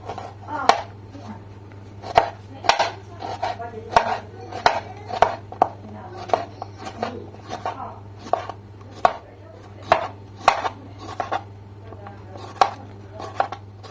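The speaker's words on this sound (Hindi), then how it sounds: "तो जनाब इसकी करेंगे हम कटिंग। इस तरह से हमने कर देनी है इनकी कटिंग।" A knife chops radish and carrot for chutney on a cutting board, a steady run of sharp, close knocks repeating every half second or so over a low constant hum.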